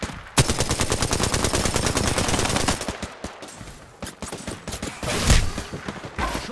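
Incoming gunfire hits a player in Apex Legends: dense, loud automatic shots in a rapid steady stream, then scattered sharper impacts and bursts with a heavy thump near the end.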